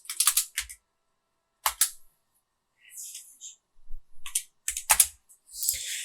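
Bursts of crisp key clicks from a computer keyboard come in short clusters separated by silent pauses, close and fairly quiet, with no talking over them.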